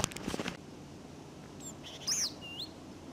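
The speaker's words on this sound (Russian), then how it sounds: "Как красиво чирикают птички." Birds chirp outdoors in a few faint, brief tweets and whistles after a short noisy rustle at the start, with quiet background in between.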